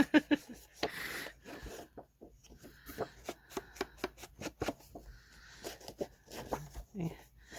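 Ledger paper for an envelope journal is inked by hand, giving quiet, irregular dabbing and rubbing taps close by, with short pauses between strokes.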